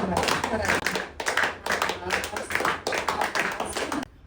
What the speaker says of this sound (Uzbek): Balandroq qarsak chalamiz.